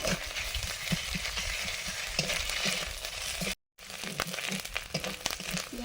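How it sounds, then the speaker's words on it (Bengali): Onions and ginger paste frying in a pan, giving a steady close sizzle with scattered scraping and crackling stirs, broken by a brief silent gap before the frying resumes. "পেঁয়াজগুলো ভাজা হচ্ছে কিছুটা ভাজা হয়ে গেছে এবার একটু ওর সঙ্গে আদা বাটা দিয়ে দেবো"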